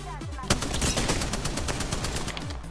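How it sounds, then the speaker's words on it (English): Rapid automatic gunfire in the Apex Legends video game, a sustained burst of loud repeated shots starting sharply after a brief lead-in and running continuously to the end, with light voice chat beneath. "he started shooting at me"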